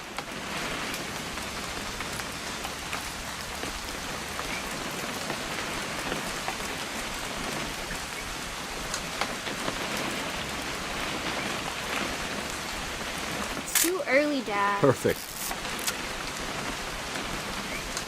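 Steady rain in the game What Remains of Edith Finch patters throughout, a dense hiss of drops on a surface, with a brief burst of louder clattering noise near the end and faint speech.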